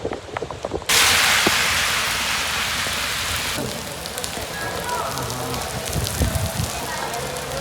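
Heavy rain in Ottawa, Canada starts abruptly as a loud, dense hiss and keeps pouring steadily, easing slightly partway through, with faint background noises underneath.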